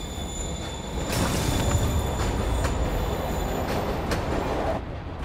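A train departs a platform in Marvel's Spider-Man Remastered, a loud, steady rumble of rolling rail cars with clattering and faint wheel squeal, no voices.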